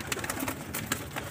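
Pigeons coo softly in a loft, giving a few low, repeated throaty calls at close range and moderate loudness, with no talking.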